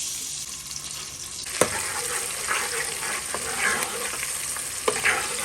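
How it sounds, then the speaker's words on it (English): Onions frying in palm oil in a pot, a steady close sizzle with occasional stirring clinks and scrapes, alone with no voices. "You let the onions fry a bit"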